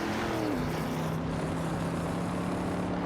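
Race cars in a video game, a Holden Monroe and a Dodge Charger battling for position, a steady loud engine drone with a pitch that drops and then holds, with no talk.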